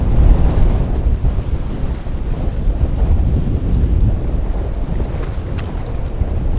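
Strong wind blows across a jetty during fishing, making a loud, steady low roar and buffeting against the microphone with no pauses.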